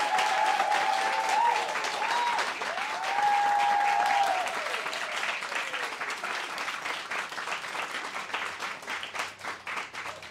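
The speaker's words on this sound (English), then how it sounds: "let's just finish off one more giant round of applause" A crowd gives a long, loud round of applause at a book launch in a bookshop, dense and sustained at first, then gradually thinning toward the end amid a few cheers and whoops.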